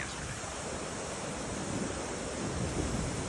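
Swollen falls in Jackson, New Hampshire, normally a gentle, steep, rocky stream, raging after extreme weather; a dense, continuous roar of rushing water fills the scene at steady loudness with no voices.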